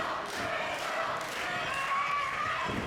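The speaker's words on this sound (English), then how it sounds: "you hear the crowd getting behind the Empress of Eatery." Arena crowd at a women's tag-team wrestling match cheering and roaring, a steady loud wash of voices throughout with some shouts rising above it.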